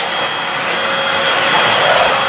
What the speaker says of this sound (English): Today I'm going to do a review on this Eureka Blaze 3-in-1 vacuum cleaner